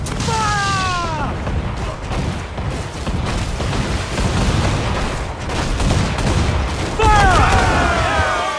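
Ship cannon fire in the pirate video game Assassin's Creed 4 Black Flag, a dense, continuous barrage of booming blasts and crackling gunfire. Shouted voices cut in near the start and end, over the battle noise.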